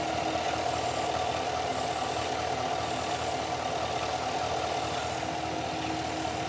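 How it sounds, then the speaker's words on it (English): An idling 2019-2021 Chevrolet Silverado engine runs with a steady, even hiss from its oil catch can under the bonnet, heard up close as a constant broadband rush over a low engine hum. "I honestly don't know where exactly the hissing is coming from or what's causing it"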